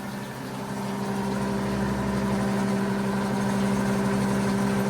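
A restored 90-year-old gas pump from the early 1930s running, a steady mechanical hum with a low motor drone that swells slightly and holds even to the end, close and without talk.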